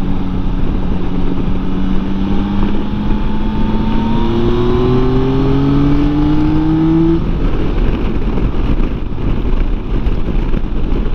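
A Yamaha Tracer 9 motorcycle under way, its engine note rising steadily as it accelerates through a gear and then dropping off, loud and constant with strong wind and road roar throughout.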